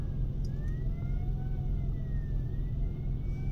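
An ambulance siren wails in the distance near a bascule bridge. Its faint rising and falling tone sits under the loud, steady rumble of an idling car nearby, and no one speaks.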